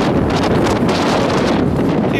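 Strong wind buffets the microphone outdoors on a farm, a loud continuous roaring rumble that swamps everything for the whole moment, with no clear voices.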